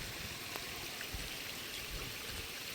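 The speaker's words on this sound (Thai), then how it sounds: "โอ้ยฝนกันเนาะ" Steady rain hissing across a surface outdoors while fishing, with soft scattered drops and a continuous wash of water noise, fairly quiet and even throughout.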